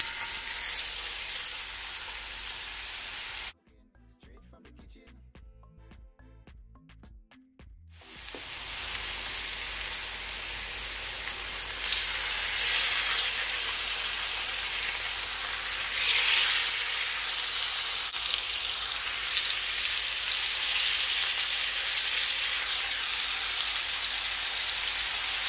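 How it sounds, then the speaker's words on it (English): Salmon fries in hot olive oil in a pan, giving a loud, steady crackling sizzle that drops for a few seconds and then returns to full strength. "I'm gonna allow it to fry, guys, for at least 3 to 4 minutes on each side, okay?"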